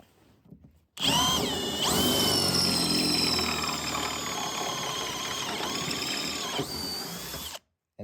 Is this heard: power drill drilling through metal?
yes